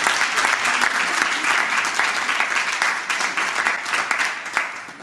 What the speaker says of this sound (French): Est-ce qu'on peut encore applaudir pour Madame Kussi?